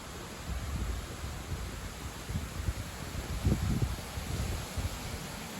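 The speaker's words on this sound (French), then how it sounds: "Dans les frênes, ça bouge beaucoup." Strong wind sweeping through ash trees, a steady hiss of rustling foliage with low rumbling gusts that swell and fade, nearby and uninterrupted.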